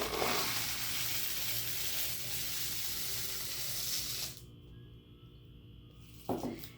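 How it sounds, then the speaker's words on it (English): Dry rice poured into a homemade shaker instrument, a dense steady rattling hiss for about four seconds that stops abruptly, followed by quiet and one brief clatter near the end. "you're going to take your rice or whatever you're using and dump it in"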